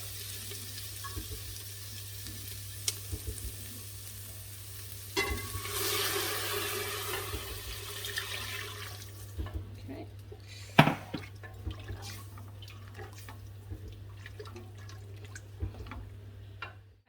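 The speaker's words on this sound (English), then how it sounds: "Now we're going to add our stock." Stock poured into a pan of sautéed vegetables for pumpkin soup, a steady sizzle and liquid splash rising for a few seconds, then quieter drips, stirring clinks and a sharp knock, with a constant low hum throughout.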